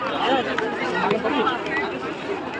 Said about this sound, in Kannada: ಜನಸಂದಣಿ ಹೇಗಿದೆ ನೋಡಿ ಇಲ್ಲಿ.